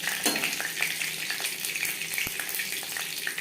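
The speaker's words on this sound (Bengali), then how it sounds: "পরিমাণ মতো রিফাইন্ড অয়েল গরম করে নিয়েছি দিয়ে দিলাম পাঁচ ফোড়ন তেজপাতা" Panch phoron spice seeds and bay leaves crackle and sizzle in hot refined oil, a dense close frying hiss with small pops and a light clink, no voices.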